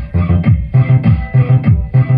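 Music plays through a repaired left channel of a Lexus LX2800 Class AB power amplifier running without a tweeter, giving a dull, bass-heavy, muffled tone with a steady thumping beat and little top end.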